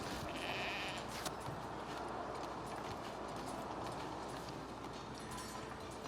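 Sheep in the medieval village-building game Foundation bleat faintly under a dense, steady bed of game ambience. Soft clopping hooves and other farm-animal sounds mix into the background.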